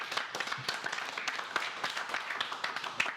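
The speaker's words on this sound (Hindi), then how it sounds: "आप सब लोग इस बात पे एशिया टेलीकॉम के लिए एक बार तालियां बजा दीजिए" A small group claps for Asia Telecom at a mobile repair training session, the scattered hand claps sounding fairly faint and uneven throughout.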